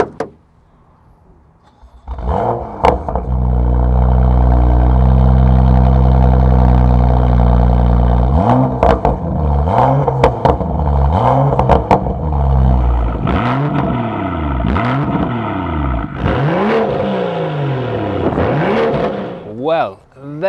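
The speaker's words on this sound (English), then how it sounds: "this one has an Akrapovic slip-on exhaust system" A modified pre-OPF BMW M2 RSR edition with an Akrapovic slip-on exhaust fires up and revs hard, its loud, deep exhaust note rising and falling through repeated throttle blips at close range.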